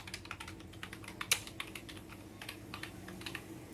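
Typing on a computer keyboard while entering a headline in Microsoft Word 2019: quick, irregular clicking keystrokes with one sharper tap, quiet and close, with no talking.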